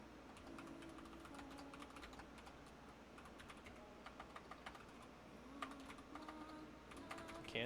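Rapid, uneven keystrokes tapped on a computer keyboard during an online Magic: The Gathering Commander deck session, clicking close and quiet in bursts over a faint steady room hum.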